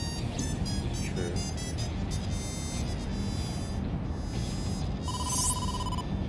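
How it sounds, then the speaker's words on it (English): A ringtone for an incoming call in the video game AI: The Somnium Files, a repeating electronic chime over a constant background hum, with a brief tonal beep near the end. "Date, incoming call from the boss."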